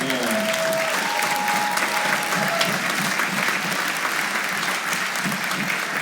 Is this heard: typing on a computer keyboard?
no